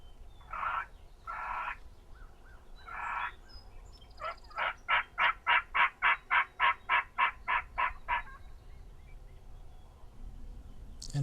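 Wild turkeys call near a hunting blind: a few harsh clucks, then a rapid run of about fifteen loud, evenly spaced gobbling yelps, with no talk.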